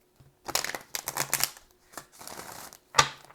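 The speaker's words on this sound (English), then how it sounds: "I'm going to shuffle and see what comes out." Tarot cards being shuffled by hand, a run of crisp riffling bursts and card slaps coming in short uneven clusters, close and fairly loud, with no talking.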